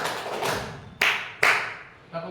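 Two sharp hand claps ring out close together in a group counting-clap game at a school training session at a junior high, preceded by a softer murmur of activity.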